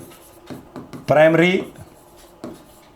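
Chalk or marker scratches briefly on a board during a chemistry lecture on alcohols, a few short strokes heard close alongside someone speaking.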